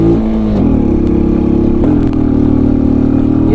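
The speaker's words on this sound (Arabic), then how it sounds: "تشوفوا الديبار ديال الموتور" A Sanya R1000 moped's engine revving up close and loud, its tone climbing in stepped surges over a clattery idle, with no voices.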